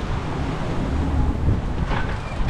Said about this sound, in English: now it's gusting and the wind is increasing